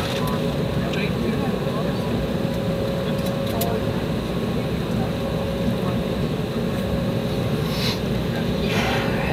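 Steady, loud roar of an Embraer E190 airliner's jet engines on the takeoff run from Toronto Pearson, heard from the cabin as a constant broadband drone with a steady tonal whine, unbroken for the whole stretch.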